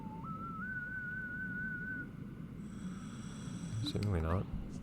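A diver's whistle in the underwater game Endless Ocean sounds as a single rising, sustained tone near the start over a steady murky ambient bed, followed later by a brief burst of bubbling, chirpy tones.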